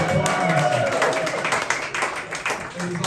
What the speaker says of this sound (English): It was also the first time it's ever gotten an applause break.